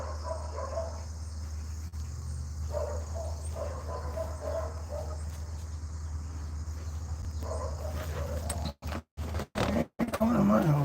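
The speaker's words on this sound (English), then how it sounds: "The dog came running to try to get at this other dog." A dog barks in short bursts over a steady low hum like an idling car, with people talking nearby.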